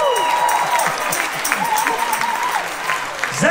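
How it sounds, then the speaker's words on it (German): A concert crowd applauds at a farewell show held at the Schlebusch shooting festival, producing a dense, steady wash of clapping and crowd noise with some voices mixed in. "Applaus."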